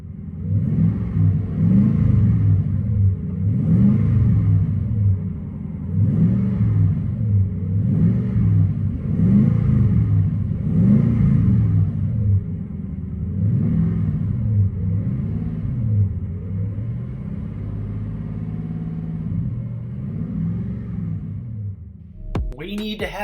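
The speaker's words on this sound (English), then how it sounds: "Interior tone level is mild with this Flowmaster True Dual Performance exhaust." Interior cabin sound of a 2021 Toyota Tundra TRD with a Flowmaster True Dual Performance exhaust and aFe intake: a low, mild exhaust rumble with rhythmic throbbing pulses, steady and alone, ending with a brief click.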